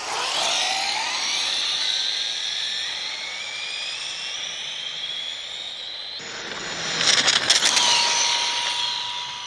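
An Arrma Limitless RC car on a road speed run gives off a high, rising electric whine that climbs steadily in pitch, then cuts off abruptly, followed by a brief burst of harsher buzzing noise.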